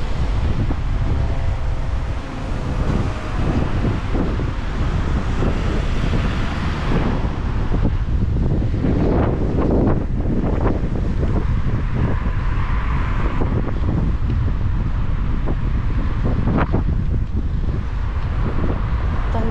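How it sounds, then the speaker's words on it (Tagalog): Wind blowing outdoors, a steady loud rumble buffeting the microphone, with gusty surges and no voices throughout. "May hangin kasi kaya"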